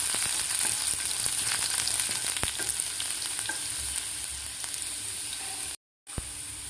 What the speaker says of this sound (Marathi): लसूणसुद्धा व्यवस्थित आपल्याला परतून घ्यायचं आहे